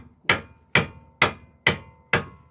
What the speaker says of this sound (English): You can give for on bush a few taps with a hammer